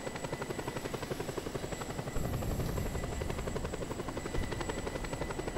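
Helicopters in Just Cause 2, a loud continuous rotor chop with fast rhythmic thumping that swells partway through, close and dominant with no speech.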